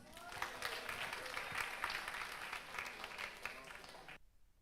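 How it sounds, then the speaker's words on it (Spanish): A church congregation claps loudly and steadily in praise for Christ, a dense and continuous round of applause that cuts off abruptly near the end. "Palmas para Cristo."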